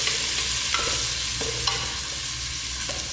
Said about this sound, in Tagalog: lutuin muna natin, gisahin muna natin ang kamatis